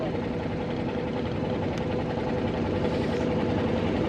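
A small trawler boat's engine chugs on the Pasur river, a loud, steady low rumble with a droning throb that stays constant throughout and never changes pace, heard up close.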